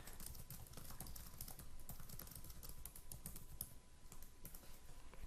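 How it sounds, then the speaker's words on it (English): Steady typing on a computer keyboard, a quiet run of soft key clicks with an uneven rhythm continuing throughout, with no voices. "you can just start typing your message"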